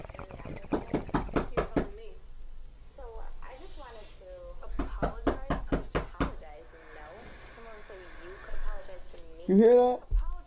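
Hard knocking on a front door in a horror film comes in two rapid series of sharp raps. Voices and other sounds fill the quieter stretch between the series and the end of the scene.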